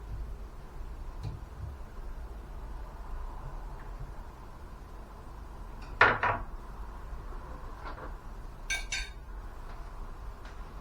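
A knife slices through a home-grown melon and knocks against a dish, giving one sharp clink and a short scrape. A fainter clink follows a few seconds later. Both rise from a quiet, hissing room background with no voices.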